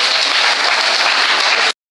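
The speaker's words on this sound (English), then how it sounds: "Round of applause, please." Loud, dense applause from a student audience at a workshop held at an engineering college, a steady wash of many clapping hands that cuts off abruptly.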